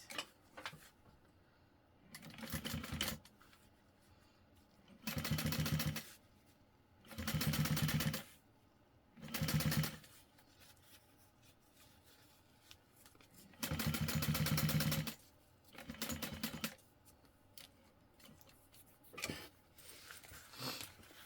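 A sewing machine stitching a handbag runs in repeated short bursts of whirring motor and needle clatter, each lasting one to three seconds, separated by quiet pauses.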